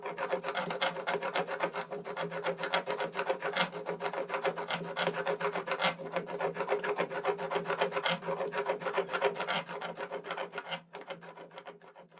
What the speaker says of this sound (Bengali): শিল পাটায় বেটেই মশলা করতে বেশি পছন্দ করি।